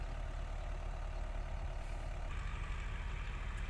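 Kubota tractor engine working on a small, very muddy road, a steady low diesel rumble running continuously, fairly distant and faint with no talk.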